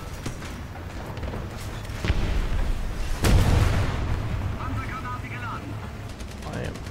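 Gunfire booms from a tank battle video game, with one heavy, loud shot standing out midway among rattling fire, and someone talking over it.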